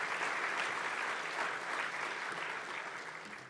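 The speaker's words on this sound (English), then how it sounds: "a round of applause, please." Sustained, dense applause from an audience at an awards ceremony, a continuous wash of many hands clapping that holds steady and fades slightly at the end.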